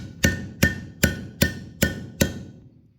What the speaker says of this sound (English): I'm going to go ahead and put the handle and hammer it down.